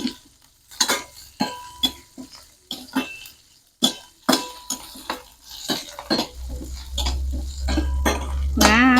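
Garlic is stir-fried in a pan, with a spatula clattering sharply and repeatedly against the metal. A rising oily sizzle then builds and settles into a steady loud fry toward the end.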